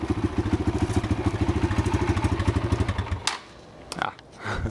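A 2020 Kawasaki KLX140 dirt bike idles with a rapid, even putter of exhaust pulses close by, then cuts off abruptly, leaving a few clicks and faint handling noise.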